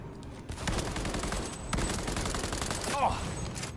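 Rapid gunfire and bursts of automatic weapon fire from combat in the video game Cyberpunk 2077, loud and dense throughout, with faint game voices mixed beneath.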